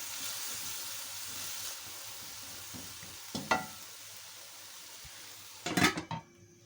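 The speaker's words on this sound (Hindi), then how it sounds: "तो नमक में ही सिर्फ पकाएंगे तकरीबन 10 मिनट कवर करके" Beef keema cooking in salt alone in a covered pot gives a soft, steady sizzle, with a few brief clanks of a lid or utensil near the end.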